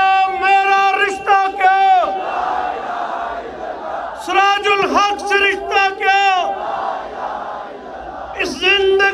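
Large rally crowd in Pakistan chanting political slogans in loud call-and-response bursts, a lead voice calling out and the mass of voices roaring back in repeated waves, with short pauses between chants.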